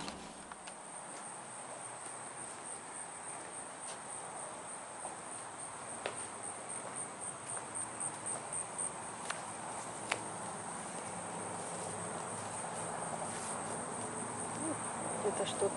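Faint, steady cricket chirping fills a quiet outdoor background, with a few soft ticks and distant hum, no talking.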